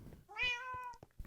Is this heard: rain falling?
no